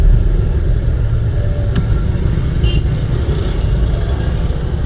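A driving-school car engine runs steadily in second gear, a loud, continuous close-up rumble with a faint brief squeak and a higher tone partway through.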